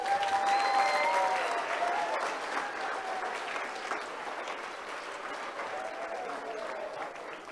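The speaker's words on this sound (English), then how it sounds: "I'd like to give a round of applause to all of the teams that attended here today" Applause from a sizeable crowd at a robotics competition closing ceremony, loud at first and then tapering off gradually, with scattered voices beneath the clapping.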